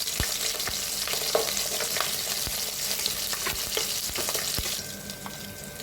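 Green chillies fry in hot oil in a pan for Guntur gongura pulav, giving a steady, close sizzle with scattered pops and stirring scrapes, easing slightly toward the end.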